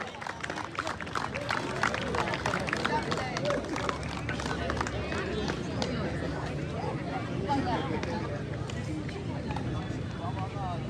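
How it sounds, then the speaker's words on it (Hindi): Crowd applause at the closing ceremony of an upper zone football tournament in Pakam, a dense, steady clapping from many hands lasting throughout, with background chatter mixed in. "तालियां हो जाए राजेश गोतवाल के लिए"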